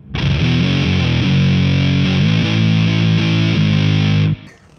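A fuzzed-out electric guitar through a JPTR FX Warlow muff-style fuzz pedal rings out loud and thick with moderate-gain distortion, a few chords played in sequence before cutting off abruptly near the end.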